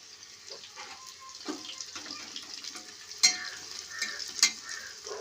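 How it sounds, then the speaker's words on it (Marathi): Onion sautéed in a little oil until reddish, a close crackling sizzle broken by irregular spatula scrapes and stirs against the pan, with a couple of sharper clinks, no talking. "चांगला लाल कांदा होऊन द्यायचा परतून द्यायचा बघा"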